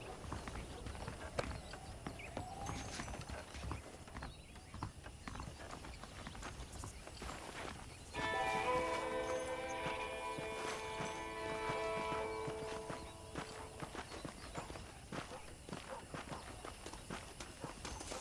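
Steady clip-clop of horse hooves at a walking pace in the video game Red Dead Redemption, with a melodic game music tone joining partway through.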